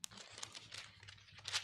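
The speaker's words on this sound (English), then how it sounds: "Someone shuffled the pages in my Bible." Thin paper Bible pages riffled and turned in quick succession, a soft crinkling, rustling flutter close by with no talk over it.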